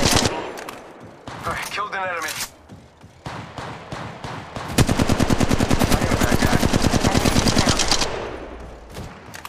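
Rapid automatic gunfire in the shooter Valorant rattles in a long, evenly spaced burst, preceded by scattered single shots and mechanical clatter, with faint voice callouts in the mix.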